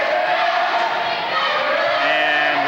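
A high school cheer squad cheering at a volleyball match, with a sustained wash of loud crowd voices and shouting filling the gym without a break.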